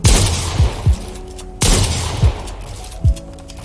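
Gunfire in Fortnite as a practice bot is shot: two bursts of sharp, loud reports about a second and a half apart, each followed by a few separate thumping shots, with no talking.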